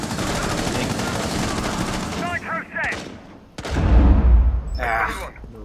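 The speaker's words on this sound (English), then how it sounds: "I'm just shooting through the holes." Gunfire in Rainbow Six Siege, shot through holes in a wall during a house team deathmatch: rapid bursts of shots, some loud and close, mixed with a player talking and thumping impacts.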